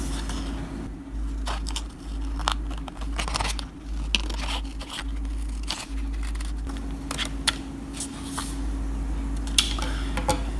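Scissors snipping out a paper puppet piece, a run of quick, sharp cuts and paper rustles over a steady low hum, close and fairly quiet with no talking.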